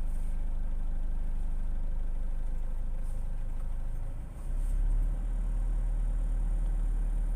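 A car engine held at low RPM, around 1500, with the accelerator pedal pressed only lightly, produces a steady, continuous low hum that stays even throughout with only a brief dip partway through.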